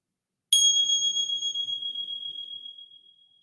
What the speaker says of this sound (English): And then receiving the sounds of the bell.